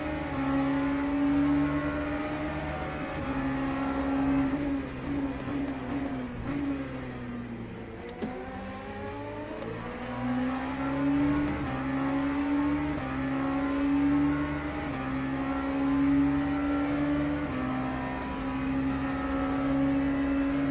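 Race car engines in the Le Mans Ultimate video game drone and whine steadily, rising and falling with gear changes and revs while another car runs close by, loud and continuous throughout without talking.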